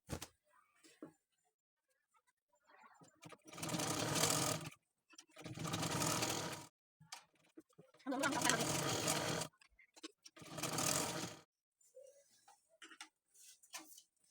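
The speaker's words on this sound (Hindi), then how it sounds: "पलटने के बाद हम यहाँ पे किनारे किनारे सिलाई लगाएंगे" A sewing machine stitches along the edge of a turned fabric piece for a patchwork blouse, running in four separate bursts of a second or so each, with quiet pauses between them.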